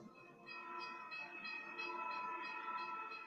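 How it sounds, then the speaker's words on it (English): A passenger train rolls past with a faint, steady rumble and a rhythmic clatter of wheels over rail joints, alongside a sustained tonal hum. "Emergency fuel gets passenger trains rolling again."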